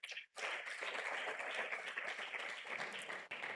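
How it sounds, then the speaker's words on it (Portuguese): A church congregation applauds during a sermon, a dense, steady wash of clapping that starts after a brief quiet moment and holds loud and even throughout. "eu quero aplaudir Jesus junto"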